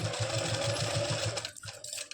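A sewing machine stitches stretchable fabric for palazzo pants in a rapid, even mechanical rhythm, close and steady before slowing and stopping near the end.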